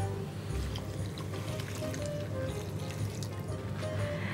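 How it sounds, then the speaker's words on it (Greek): Water poured into a cooking pot holding rabbit and lemons, a steady close liquid rush and trickle running the whole time, no talk. "Και θα βάλω νεράκι."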